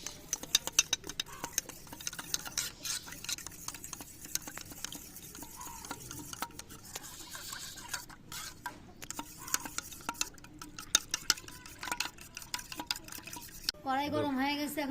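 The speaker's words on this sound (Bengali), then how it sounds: "ভালো করে মিশ্রণটা গুলে নিচ্ছি।" A spoon stirs a batter of flour, cornflour, salt, chili powder and a little water in a bowl. The scraping and sloshing is faint and uneven, with a short different sound at the very end.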